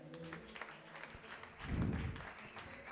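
A church congregation at a Sunday service applauds steadily, the clapping soft and somewhat distant, with a swell of crowd noise partway through.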